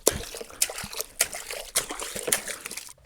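Foley liquid sounds mimicking chunks dropping into milk: a series of distinct close plops and splashes with small sloshing trickles between them, fairly steady over a few seconds, no voices.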